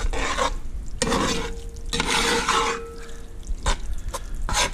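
Chili with meat that was jarred five years ago gets stirred in a pan, with rasping scrapes and stirring strokes over a low sizzle, fairly close.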